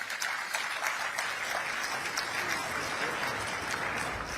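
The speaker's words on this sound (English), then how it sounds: "I think this deserves a round of applause in itself." Applause from the audience for a COP28 panel on global cooling, a steady, fairly faint roomful of clapping that continues evenly without talk.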